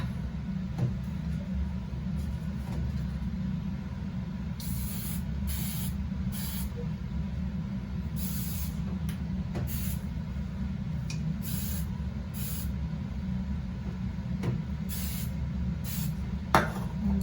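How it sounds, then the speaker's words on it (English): Hairspray from an aerosol can sprayed onto curled hair in a series of short hissing bursts, close and fairly loud, over a steady low background hum with no talking. "Let me grab some hairspray."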